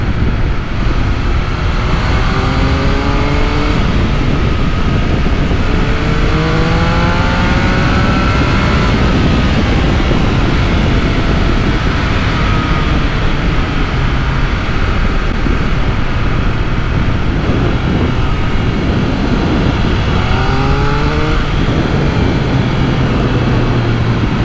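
A Triumph Speed Triple 1200 RS motorcycle engine accelerating on sweeping country bends: a loud, steady roar with rising pitch sweeps as the throttle opens and gears change, heavy wind rush throughout.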